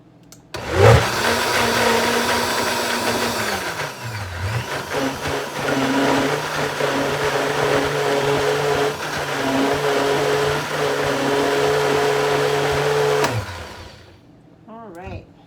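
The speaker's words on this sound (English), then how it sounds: "Give it a little blend here." A blender whirs loudly as it purees washed spinach, a close motor drone that starts abruptly, shifts pitch as the load changes, then runs steady before cutting off.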